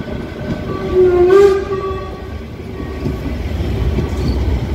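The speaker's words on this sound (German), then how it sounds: "Tuff, Tuff, Eisenbahn sind wir jetzt unterwegs mit dieser gigantischen Dreckschleuder da hinten." Steam train running on a heritage railway in the Harz, a loud, steady rumble of the moving train with clattering wheels, a brief whistle-like tonal burst rising over the noise near the start, continuous throughout without talk.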